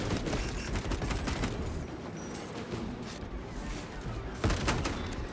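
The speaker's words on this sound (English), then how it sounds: "Let the servo gun do its job." Servo gun firing in a Warhammer 40,000 Space Marine game, a dense, continuous rattle of rapid shots with thumping impacts, loud and sustained throughout, a heavier blast near the end and no speech.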